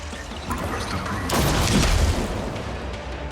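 A plasma explosion in the video game Rogue Trader, a loud, rumbling blast that swells around the middle and then fades into a lingering crackle, no talk.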